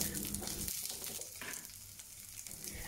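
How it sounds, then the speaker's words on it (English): Asparagus and carrots sizzle loudly in hot flavored oil in a pan over medium-high heat, a dense, steady frying hiss with faint stirring movement, close and continuous with no talk. "Place the asparagus and carrots into the pan and saute over medium to high heat for a minute"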